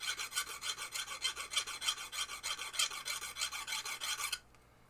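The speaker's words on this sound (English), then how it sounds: "So I am putting a bevel on it." A file rasps a bevel onto a spinning part from a 1973 Williams Triple Action pinball head, giving close, rhythmic back-and-forth scraping strokes of moderate loudness that stop abruptly near the end.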